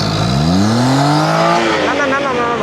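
A car engine with a carburetor problem runs loudly and close, its pitch rising and wavering unevenly in a continuous strained drone, with a voice briefly audible near the end.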